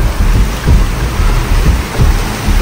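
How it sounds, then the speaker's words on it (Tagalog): Heavy rain pours steadily outdoors, breaking tree branches, a dense loud roar with low rumbling gusts beneath it. "Ulan pa, Mar."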